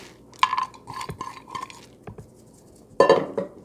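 Spoon or utensil scraping and clinking against a mixing bowl while birdseed, oats and unsalted peanuts are worked into a suet cake mixture, with scattered knocks and a louder clatter near the end.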